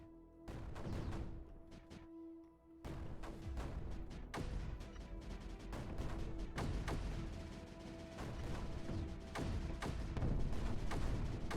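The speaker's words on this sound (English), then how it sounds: "And explosions start going off because my stuff's exploding." Explosions in the strategy video game Creeper World 4, a dense run of booms and crashes popping off one after another over a steady hum, loud and continuous with sharp bursts throughout.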